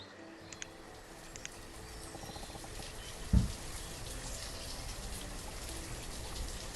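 Steady rain ambience in the Banished village-building game, a soft continuous patter with occasional light drips and a brief thump, no voices.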